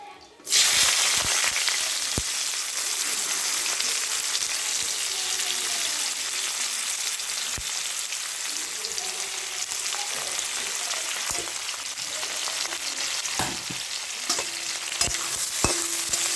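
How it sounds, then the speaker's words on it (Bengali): Loud, continuous sizzling of chopped onions frying in hot oil, close up, with occasional clicks and scrapes of stirring throughout. "সেই তেলের মধ্যে আমি এখানে দিয়ে দিচ্ছি পেঁয়াজ কুচি"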